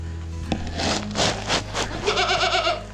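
Several goats bleat close by in quick succession, with wavering cries overlapping amid shuffling and clatter.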